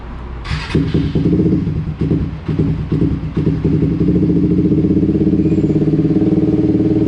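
A Suzuki GSXR150 motorcycle idles on a rumble-idle ECU setting, a loud, close, lumpy engine note that pulses unevenly at first with a couple of blips, then settles into a steady throbbing idle.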